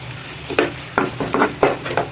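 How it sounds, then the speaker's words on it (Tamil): Onions with green chillies and curry leaves sizzle in a pan as a spoon stirs them, giving a steady frying hiss broken by several scraping stir strokes close by. "இப்போ நான் பச்சை மிளகா கருவேப்பில் போட்டுறேன் வதங்கட்டும்"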